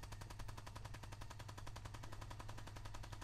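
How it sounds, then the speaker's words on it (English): Rapid automatic gunfire from the video game Fallout 4 rattles on steadily for the whole stretch, a dense, even stream of shots with no pauses and no voices. "Trying to find the source of like the mysterious shooting."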